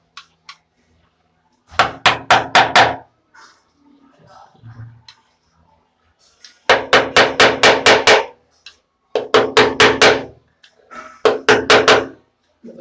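A hammer taps a nail against ceramic tile to mark a spot for drilling, in several quick bursts of four or five sharp close knocks, with soft speech between the groups.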